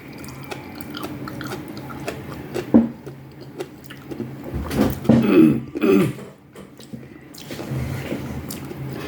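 Close, wet chewing and squishing while eating bread, noodles and choy sum, with irregular bites and slurps that swell in the middle of the clip before quieting again.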